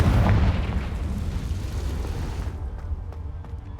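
A Confringo fire spell explodes in Hogwarts Legacy, a loud booming burst up front that rumbles and decays into a dull roaring tail.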